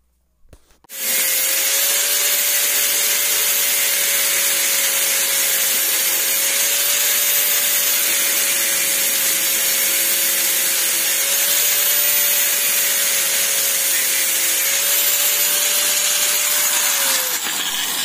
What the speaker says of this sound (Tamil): கட்டிங் மிஷின் போட்டு ரெண்டு பக்கம் கட் பண்ணி தட்டினீங்கன்னா தனித்தனியாக வந்துடும்